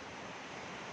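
Sea waves wash at a beachside by a swimming pool, a steady broadband rush of surf with no breaks, soft and unbroken for the brief moment.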